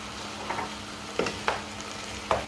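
Turkish hünkar beğendi base sizzling in butter in a pan, a soft steady fry with a few sharper clinks of a utensil against the pan, fairly quiet with no talk.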